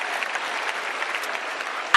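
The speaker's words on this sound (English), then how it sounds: "A round of applause to those few who asked questions." An audience applauds at a public event in Botswana, steady dense clapping throughout, ending with one sharper clap.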